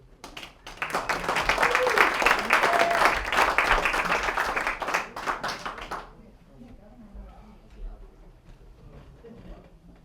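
An audience at a live music tribute show in a small venue breaks into loud, dense applause for about six seconds, then it cuts off abruptly and quiet voices and room murmur follow.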